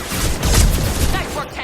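Gunfire in the Mass Effect 2 video game, a dense burst of loud rapid shots and booms that run together without a break.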